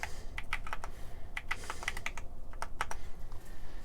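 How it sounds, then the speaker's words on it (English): Typing on a computer keyboard while entering package dimensions during eBay order packing, with rapid irregular keystroke clicks, some in quick bursts, close and clear with no talking. "And then let me type in the dimensions here."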